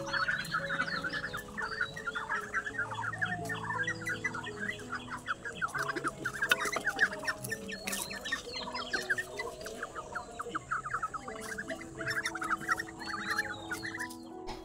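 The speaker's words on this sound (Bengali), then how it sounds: "এবার হাঁসগুলো প্রথমে ঘরে ঢুকিয়ে দিয়ে তারপর এবার মুরগি বাচ্চাগুলো বার করবো।" Hens and chicks in a backyard coop cluck and peep without pause, a dense, busy flock chatter that stays close and fairly even across the whole stretch.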